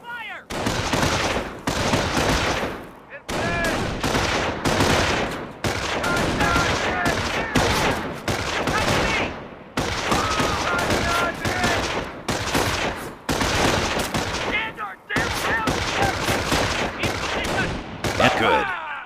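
Sustained gunfire from infantry squads attacking in the Company of Heroes video game, dense overlapping rifle and machine-gun fire in long loud bursts separated by brief pauses.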